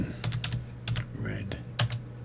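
Brief bursts of computer keyboard typing, several quick clustered key clicks close by over a faint steady hum, no talk.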